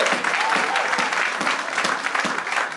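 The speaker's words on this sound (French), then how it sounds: "Est-ce qu'on peut acclamer le Seigneur?" A church congregation applauds and cheers during a French-language sermon, a dense, steady wash of clapping and crowd noise that fills the whole moment loudly and without pause.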